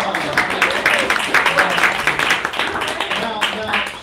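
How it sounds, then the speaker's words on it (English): Applause and clapping from a workshop audience during a learning-game session, a dense, steady patter lasting several seconds, mixed with talking voices. "Let's give down dog a round of applause."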